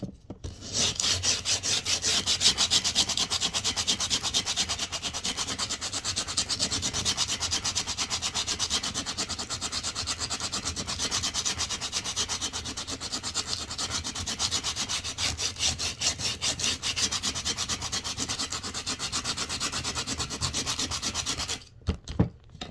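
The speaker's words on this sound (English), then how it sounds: "I could have actually scraped a little bit more of this stuff off of here" Wood for a craft project is sanded and scraped in a steady, rapid back-and-forth rasp that continues for about twenty seconds and then stops abruptly.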